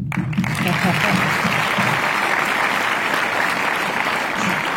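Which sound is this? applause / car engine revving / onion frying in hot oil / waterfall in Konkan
applause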